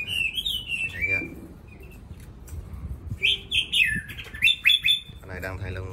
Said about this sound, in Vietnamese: Con lửa này hót rất là tốt.